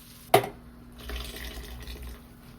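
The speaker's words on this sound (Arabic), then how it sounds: "هنزل بقى بالميه اللي انا غليها. الميه دي مغليه وجاهزه للرز" Boiled water is poured into a pot of rice being cooked. A sharp knock comes first, followed by a couple of seconds of splashing liquid up close.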